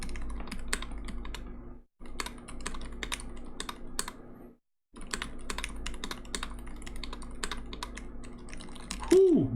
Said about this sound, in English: last typing test real quick